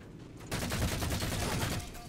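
Dense automatic gunfire from the Halo video game, a sustained rattling burst of rapid shots that starts abruptly after a brief quiet moment and continues loud and steady to the end.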